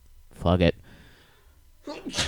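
A single sharp sneeze bursts out, followed by a short muttered remark and more voices.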